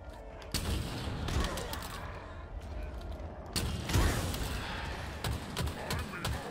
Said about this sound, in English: That was quite easy to take those guys down there with the rockets.